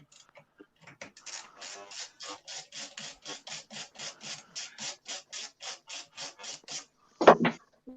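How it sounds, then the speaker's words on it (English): A hand ratchet clicks rapidly and evenly while loosening screws on a lawn mower, a long run of close, crisp ticks ending in a louder clunk. "So take those 3 screws off, Keith."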